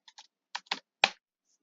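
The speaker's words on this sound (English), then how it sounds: "Try typing unlock door, then open door." Someone types a command into a text adventure game on a computer keyboard, with about five crisp, close keystrokes in an irregular rhythm, the last one the sharpest and loudest, set against silence.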